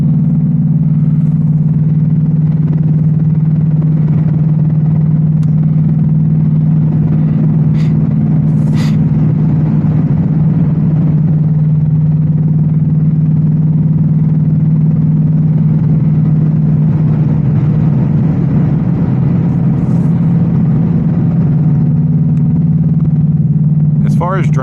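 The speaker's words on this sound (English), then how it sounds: "the exhaust is loud because I got it in drag strip mode" An 810-horsepower RTR Mustang GT idles with its exhaust set to drag strip mode, giving a loud, steady, deep drone that holds throughout, with a few faint clicks and brief higher sounds on top.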